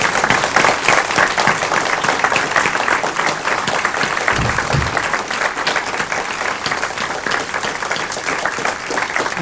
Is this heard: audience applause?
yes